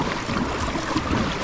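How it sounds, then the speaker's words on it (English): Water swishing steadily along the hull of a Kaku Zulu pedal-drive kayak as it pushes through, a close continuous wash with faint wind and no talk. "pushing a lot of water to the side"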